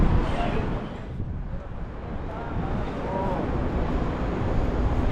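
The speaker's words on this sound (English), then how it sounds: "It's just a little windy, but the weather is still quite nice." Steady wind buffeting the microphone in a low, continuous rumble, with no distinct events, outdoors by Kitchener City Hall, Canada.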